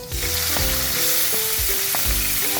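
Garlic and tomato sauté in a hot pan for pinakbet, giving a steady, loud sizzle that runs unbroken through the whole moment.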